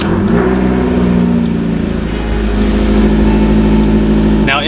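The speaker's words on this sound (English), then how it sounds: "I'm going to go ahead and start the car." A 2012 Fiat 500 Abarth starting up, a brief cranking burst that catches into a loud, close, steady engine idle with a low rumble, and a short higher sound near the end.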